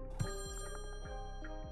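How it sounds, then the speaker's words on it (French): A telephone rings faintly and repeatedly in the Friday the 13th: Killer Puzzle video game. The ringing repeats against a steady, tonal in-game background, with no speech. "Téléphone."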